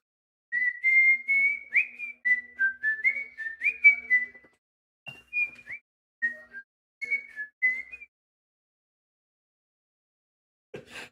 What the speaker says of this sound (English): She doesn't like my whistling.